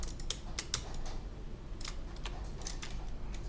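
A computer keyboard being used during 3ds Max modeling, with quiet, crisp key clicks tapped in an irregular scattering of presses over a few seconds, close and soft, with no voices.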